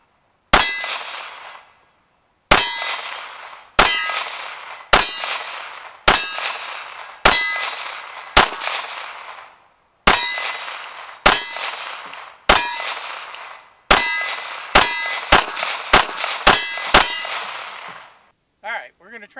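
Glock 45 pistol shots ring steel targets in a string of about seventeen loud cracks with bright metallic clangs that decay between them, spaced at first and then faster toward the end.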